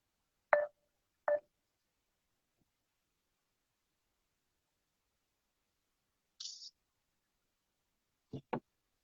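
Phone dialing tones sound as a few sparse, brief beeps and clicks spread across a quiet stretch, faint and isolated.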